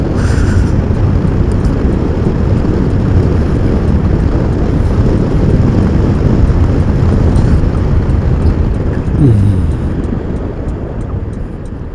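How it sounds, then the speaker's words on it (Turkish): Loud, constant wind roar buffeting the microphone on a motorcycle riding at speed at night, a dense low rumble that barely changes throughout, easing slightly at the end. "Abi ne rüzgarmış ya"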